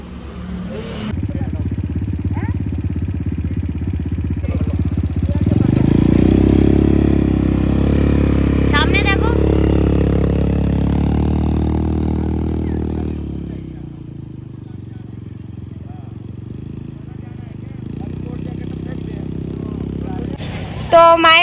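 A motorcycle ridden toward the listener on a sunny street grows louder, its engine droning closer before fading away, while people talk nearby over general street noise.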